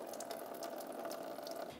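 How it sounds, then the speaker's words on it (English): Coolant draining from the opened radiator plug of a 2000-2007 Ford Taurus, a faint, steady trickling stream of liquid running continuously for a couple of seconds without pause. "you're going to unscrew your radiator plug and you're going to drain your coolant"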